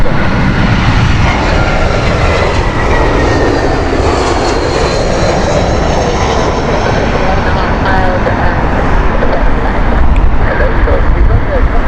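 An airliner arriving at Heathrow on a flight from Amsterdam in heavy winds, a loud, continuous jet roar with whining engine tones as it passes close, a voice talking over it.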